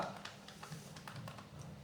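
Steady typing on a computer keyboard during graphic design software work, with soft, fairly quiet key taps in an irregular, close-up rhythm and no talking.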